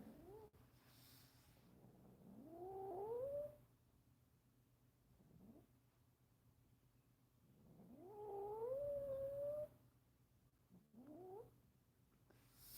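A female cat growls low and long, rising into drawn-out yowling wails in two bouts, with quieter pauses between them.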